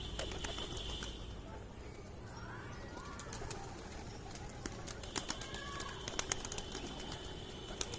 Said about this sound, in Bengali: এই যে লাল পায়রাটাও নতুন কালেকশন ছেড়ে দিয়েছি